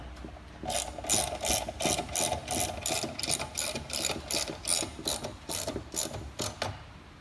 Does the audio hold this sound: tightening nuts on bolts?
yes